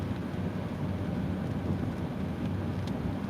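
Steady rain falls during a Midwest storm, a dense even hiss with a low rumbling undertone throughout and no voices.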